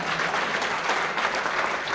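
Steady, dense applause from an audience at a university ministerial visit in Mbarara, a continuous wash of many hands clapping at moderate distance with no break across the whole stretch.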